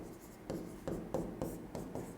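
Chalk or a marker scratches a board during a quantum physics lecture in a quiet room. Five or six short strokes come in an uneven rhythm, close and fairly soft, with no talk.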